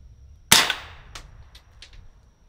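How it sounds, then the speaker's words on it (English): Single unsuppressed subsonic .22 gunshot heard from downrange near a large hill backstop, one sharp crack followed by a decaying rumble and a few faint echoing pops, with no talking. "So here we go with unsuppressed, and this is subsonic, which a lot of 22 ends up being anyhow."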